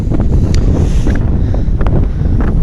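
Strong wind buffets the microphone at a Buddhist temple, a loud continuous roar and rumble with gusty flutter throughout and no speech.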